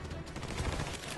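Rapid video-game gunfire in an Army of Two firefight, a dense continuous burst of shots with no pause, fairly loud throughout and alone.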